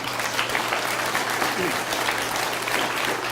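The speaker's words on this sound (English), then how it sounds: "If we give a round of applause, please, to Jet Oakley." An audience applauds at an elementary school awards ceremony, a continuous, full-sounding patter of many hands clapping at a steady level throughout.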